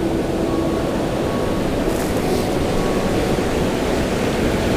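Ocean surf rolls in on a sandy beach where fish forage, making a constant broadband roar that stays loud and unbroken, with no voices.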